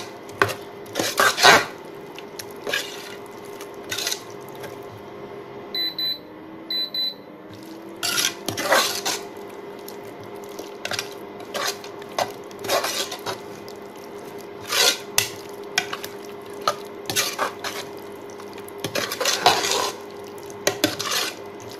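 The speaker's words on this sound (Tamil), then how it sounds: "இதையும் நல்லா மிக்ஸ் பண்ணி விடுங்க" A utensil scrapes and clatters against a metal pot in irregular strokes as mutton is stirred for mutton kuzhambu, with brief pauses between bursts.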